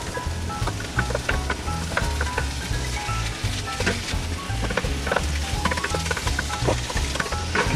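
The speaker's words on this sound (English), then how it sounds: "we're going to throw this bacon in. Throw our sausage in. And our hamburger." Bacon, sausage and hamburger meat sizzle and brown in a frying pan, a steady dense crackle with clicks and scrapes of stirring and breaking up the meat throughout.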